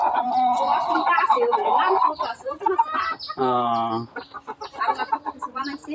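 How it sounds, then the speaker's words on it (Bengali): Roosters and hens cluck and call close by, with one clear drawn-out cackle midway, while people talk over them. "ও এই বড় দুইটা মোরগ আর ছোট দুইটা মুরগি।"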